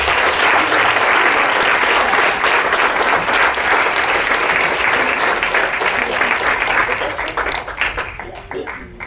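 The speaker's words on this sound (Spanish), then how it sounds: "Se merece un aplauso a todos ustedes." Loud, dense applause from a seated audience at a wellness workshop, sustained for about eight seconds before thinning out near the end.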